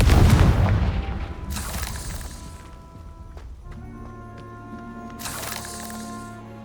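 Hogwarts Legacy Confringo fire spell explosions in a video game: a loud booming blast at the start with a rumbling tail, then a second sharp burst and a third near the end over lingering low hum.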